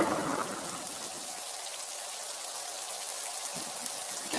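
Steady cartoon rain falls in a continuous soft patter with a faint stream-like wash, alone and at moderate volume throughout, with no voices.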